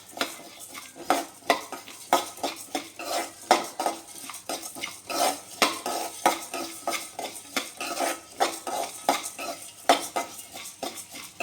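Spices, including dried turmeric, dry-roasting for a traditional fish curry, a spoon scraping and knocking against the pan in a steady rhythm of strokes with a light sizzle beneath, close and clear, no talking.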